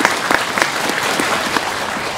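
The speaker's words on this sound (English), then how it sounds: "Why are you clapping?" A live audience applauds during a Buddhist sutra teaching, dense steady clapping from many hands filling the room at an even level for a couple of seconds with no talking over it.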